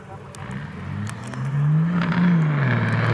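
Kenworth semi truck engine revving at an outlaw semi drag race at Cecil County, a deep rising engine note that climbs and holds loud, with an announcer talking over it.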